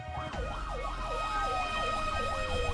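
An Australian ambulance siren wails in a steady rising-and-falling cycle, repeating evenly over a low engine rumble at moderate distance, with no talk.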